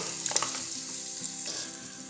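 Garlic and onion sauté in a pan on a wood-fired stove. Faint, close frying hiss comes with a few light clicks of stirring at the start.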